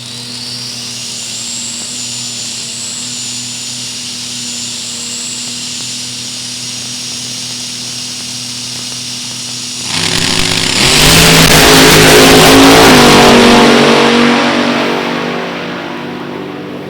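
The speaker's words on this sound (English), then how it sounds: "Jared Jones, Spitzer chassis, Cummins diesel, twin turbo." A twin-turbo Cummins diesel drag car on a Spitzer chassis idles with a steady drone and turbo whine, then launches hard at a drag strip. A loud, roaring burst of acceleration swells for several seconds and then fades as the car runs away.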